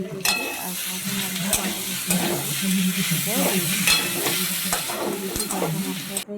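Potatoes frying in a pan, a bright steady sizzle with repeated scraping stirs and a few sharp spatula knocks against the metal, loud and close with no talking.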